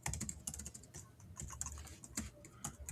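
Rapid typing on a computer keyboard, close and fairly quiet, with dense irregular key clatter running throughout and no talking.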